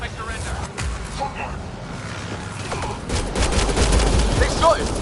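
Gunfire in Mass Effect: Andromeda, rapid shots crackling through a firefight with a loud burst building toward the end, mixed under voices.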